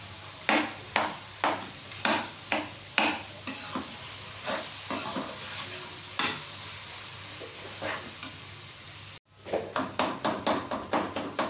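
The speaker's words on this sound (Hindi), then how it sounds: "थोड़ा सा मसाले के साथ इनको अच्छी तरह से भूनें।" Potato tikki being stirred and fried with spices in a pan, a spoon striking and scraping in a steady rhythm of close, distinct strokes over a constant sizzle, with a brief break before the stirring resumes.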